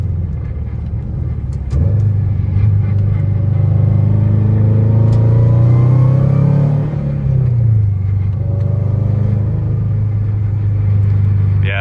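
A 2017 Subaru WRX STI with a catless downpipe, R400 aftermarket exhaust and $100 Temu headers driving along, a loud, droning engine rumble from inside that rises and falls with a steady burbly tone.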